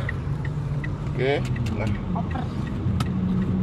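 A car with an automatic clutch system drives at low speed, its steady engine rumble running throughout beneath a voice speaking briefly.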